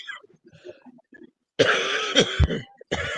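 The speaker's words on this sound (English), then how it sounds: "Who's coughing?" A burst of harsh coughing close by, a few rough hacks in quick succession after quiet murmuring, then another cough starting at the end.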